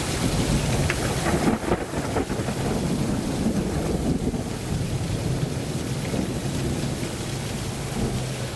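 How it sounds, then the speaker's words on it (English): Thunder rumbles low during a thunderstorm amid steady heavy rain and wind noise, forming a loud, continuous wash with no talking. "Plenty of lightning, and listen to the thunder."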